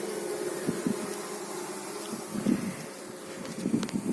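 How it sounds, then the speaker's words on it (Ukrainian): Honeybees buzzing during an early spring hive inspection, a steady close drone of many insects with a few louder swells as bees fly near, no talk over it. "Агресивні трохи зараз міг подемаримо на них. Стільки бджоли мору."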